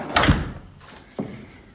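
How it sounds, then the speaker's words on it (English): A door swings shut with a solid thunk, followed a moment later by a lighter click of the latch. "Door shuts"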